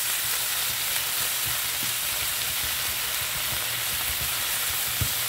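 Anchovies frying in butter in a pan give a steady, loud, hissing sizzle that carries on without pause, with a few faint pops and knocks underneath.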